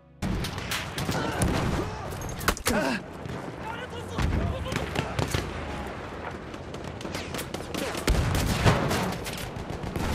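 Battlefield 1 gunfire crackles continuously in dense, overlapping bursts with sharp louder shots, while players talk over the battle.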